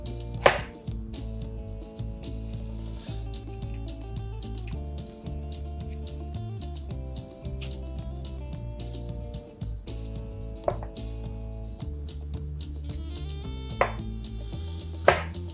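A knife chops bell peppers on a cutting board for steak fajitas, producing a long run of close, crisp cuts and board taps in an uneven rhythm with a low steady hum underneath and no voices.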